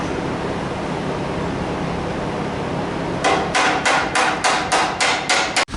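Metal body panel on an Apache truck rings under a run of about ten sharp, evenly spaced hammer blows as dents are knocked out, following a stretch of steady background rumble.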